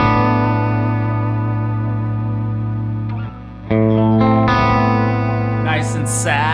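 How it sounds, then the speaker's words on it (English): A Stratocaster electric guitar with a coil tap, run through distortion and effects, sustains thick, buzzy chords that ring and swell. It briefly dips, then returns louder with gritty overtones and shimmering echo near the end. "Down, it's a pissed off Strat. Up, it's a normal old Stratocaster."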